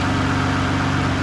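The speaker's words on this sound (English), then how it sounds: "let's get the GTR started and check this oil" Nissan GT-R engine running just after starting, a loud, steady, close idle with a deep low drone and even vibration throughout, no talk.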